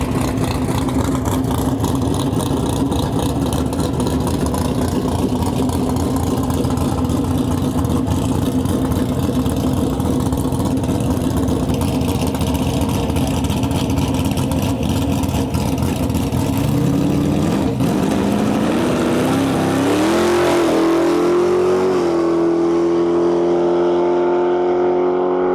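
A Chevy Nova drag car roars at full power down the dragstrip, a steady loud engine note that climbs in pitch near the end as it accelerates away, with no talk over it.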